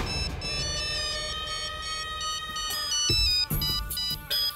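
A phone ringtone plays on a call that goes unanswered, a steady electronic melody of harmonic tones repeating for several seconds, fairly close and alone with no voices over it.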